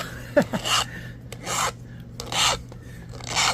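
Rasping strokes from sharpening an agatized coral arrowhead during flintknapping, four or five short separate scrapes spaced roughly a second apart, close and fairly loud over a steady low hum.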